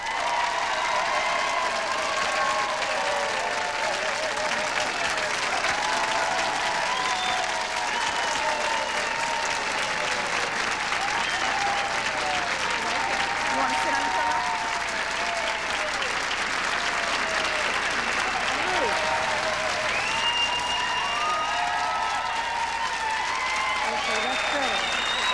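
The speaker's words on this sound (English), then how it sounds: "They'll applaud anything." A 1993 television studio audience applauds as a guest singer walks on: sustained, loud clapping from a large crowd for the full stretch, with voices or music faintly threaded underneath.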